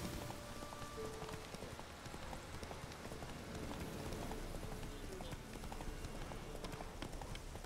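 Galloping horse hooves in The Witcher 3 video game drum in a fast, continuous patter under a dense, rain-like background wash, steady and moderately loud for the whole stretch.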